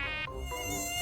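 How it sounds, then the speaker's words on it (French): Swarming insects in the video game Fortnite give a continuous, close mosquito-like buzzing whine, steady and fairly loud throughout with no talking. "Les insectes, ça pullule sur Fortnite."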